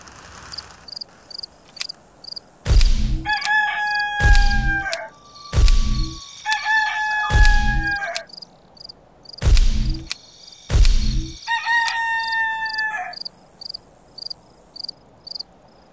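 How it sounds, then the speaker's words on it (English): A rooster crows again and again in the god game Black & White 2, three or four loud, strained calls with gaps between, each starting with heavy low thumps, over a steady insect-like chirping background. "Roosters always crow when the sun comes up."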